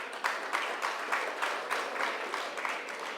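A crowd applauds during a closing ceremony as sponsors are acknowledged, a steady wash of many hands clapping with a faintly pulsing rhythm, moderately quiet and without speech.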